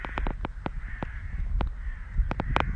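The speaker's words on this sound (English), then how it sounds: "Look at all the crows." A flock of crows calls out in a neighborhood field in Gyumri, Armenia, with repeated sharp caws in an irregular series, some close and loud, others farther off, over light outdoor background noise.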